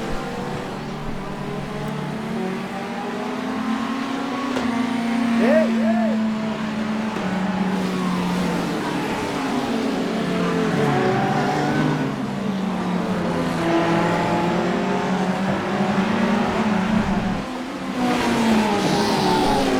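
A GT3 race car in a racing video game brakes hard, its engine pitch dropping and rising through downshifts in a continuous loud whine and roar, with someone speaking over it.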